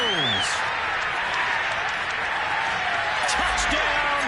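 A stadium crowd in an American football video game, Titans scoring a touchdown, roars with loud sustained cheering and applause, a dense continuous wall of sound throughout with no talk.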